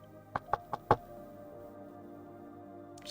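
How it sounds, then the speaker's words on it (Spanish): Four quick knocks rap on a door inside a study, sharp and close, in an uneven rhythm, followed by quiet room tone and a faint noise at the end. "En eso alguien toca la puerta."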